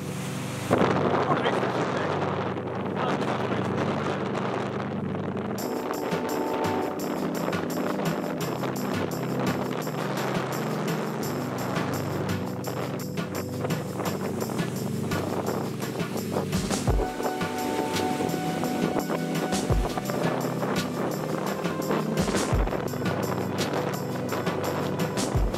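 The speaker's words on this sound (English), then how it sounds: "Oh boy, it's windy out here." Strong wind out on the ice during a Minnesota ice fishing trip buffets the microphone with a constant loud roar and rumble, and someone speaks briefly over the gusts.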